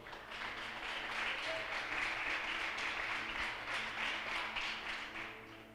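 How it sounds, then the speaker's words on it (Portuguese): A church congregation applauds during a worship service: dense, steady clapping from many hands that stays loud throughout and eases off slightly at the end. "Você pode aplaudir forte esse Deus que você serve aí?"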